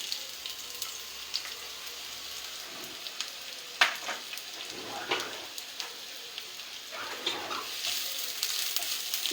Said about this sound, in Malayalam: എണ്ണ ചൂടായിലേക്ക് നമുക്ക് കുറച്ച് സവാള,